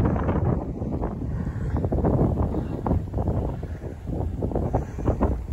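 Cold gale-force wind at a seaside holiday park in Caister-on-Sea batters the microphone in heavy continuous low rumbling gusts, loud and close throughout.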